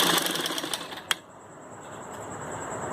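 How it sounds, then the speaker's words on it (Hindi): A sewing machine runs a loose basting stitch along a fabric strip, buzzing quickly and close for about a second, then falling quiet to faint background hum. "इस पट्टी पे हम ऐसे सिलाई लगाएंगे कच्ची"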